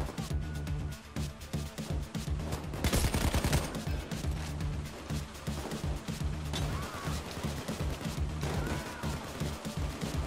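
Rapid bursts of gunfire from the video game Payday 2 crackle almost nonstop over a low droning background during a bank heist, with one louder volley near the start and no talking.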